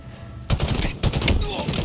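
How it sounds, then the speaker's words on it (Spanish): Gunfire in the video game Halo Infinite, two loud bursts of rapid automatic shots with dense crackling between, close and intense. "Viste que solo dos disparos me dio y me mata, loco."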